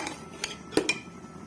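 Mutton being stirred and roasted in milk in a pot for palak gosht, a few close, short clinks and scrapes of a spoon against the pot over a quiet background.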